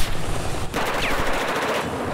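Carbine gunfire in Battlefield 4 on the Shanghai map, a loud dense burst of rapid shots rolling into continuous rattling fire with a brief break, no voices.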